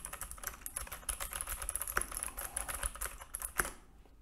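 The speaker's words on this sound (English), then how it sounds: "we'll go back to talking gibberish while typing on this keyboard" Rapid typing on a computer keyboard picked up by a budget Sahara Gaming SD-2420 clip-on headset microphone, a steady irregular clatter of close key taps with a few sharper louder strikes, no voice.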